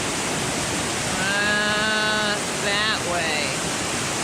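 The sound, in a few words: river cascades and waterfall rushing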